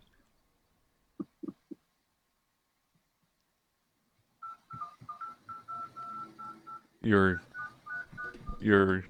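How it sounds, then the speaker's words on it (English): Telephone keypad dialing: a few short DTMF tones, then a burst of rapid tones, followed by loud synthetic beeping and a voice speaking over it. "I could call him on the phone."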